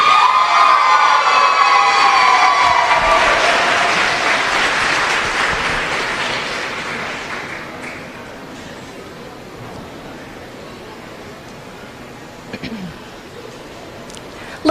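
An audience at a youth fair contestant pageant applauds and cheers loudly at first, the clapping thinning and fading over several seconds to a quiet murmur, with a few scattered sounds near the end.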